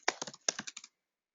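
Quick burst of typing on a computer keyboard, about a dozen close, crisp key clicks in two short flurries, then silence.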